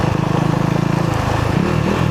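A Husqvarna Svartpilen 401 motorcycle on gravel off-road tires revs its engine up close in a steady, throbbing drone that shifts pitch slightly toward the end.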